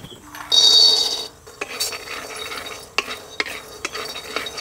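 Peanuts dry-roasting in a kadai, stirred with a spatula that scrapes and clinks against the metal pan in short irregular strokes, close and fairly quiet, with a brief louder hiss near the start and no voices.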